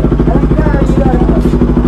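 A Bajaj Pulsar RS200 motorcycle with a newly fitted aftermarket exhaust idles loudly and close, its engine thumping in a steady rapid pulse throughout, with voices faintly underneath.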